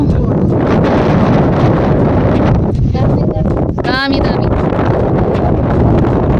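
Heavy wind buffeting a microphone by the sea at Ayia Napa, a loud, constant roaring rumble that fills the whole clip, with a brief voice cutting through near the middle.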